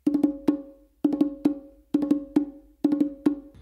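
Bongo open tones played as a quick triplet followed by one separated note, struck by hand. Four repetitions come close and crisp, with a short pause before each lone final stroke and silence between groups, with no voices.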